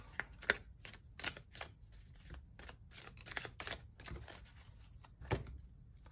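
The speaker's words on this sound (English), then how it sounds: "I'll just give them another bit of a little bit of a shuffle" Oracle cards being shuffled close up: a string of quick riffling bursts and soft taps over several seconds, no voices.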